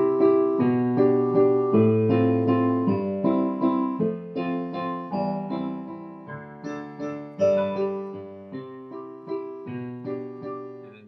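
Piano plays a song's verse as written, with a continuous flow of melody over moving chords in a lilting rhythm, notes overlapping and ringing, and no voices.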